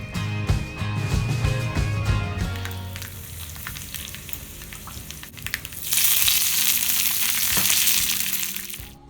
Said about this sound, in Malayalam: ഇനി ഇതിലേക്ക് നമുക്ക് കടുക് പൊട്ടിക്കാം.